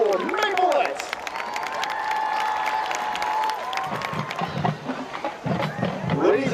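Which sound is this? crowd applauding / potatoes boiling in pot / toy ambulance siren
crowd applauding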